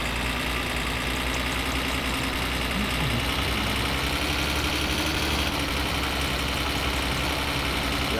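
Car engine idling steadily in the video game My Summer Car, a constant low rumble with a faint whine, close and continuous with no talk.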